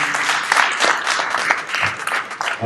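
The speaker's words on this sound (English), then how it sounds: "Clap it up for Angel." A short burst of applause from a crowd at a sports banquet, steady clapping throughout, fairly close and lively.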